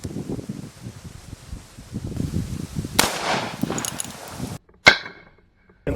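A single sharp gunshot cracks into a block of cherry wood after a stretch of rustling outdoor handling noise, followed by a brief ringing tail and then quiet.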